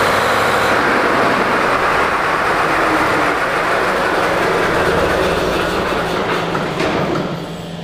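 Heavy machinery just started up inside a Swiss military fort, its exhaust venting near the original entrance: a loud, steady broadband roar with a low rumble that holds constant throughout, easing slightly at the very end, with no talking.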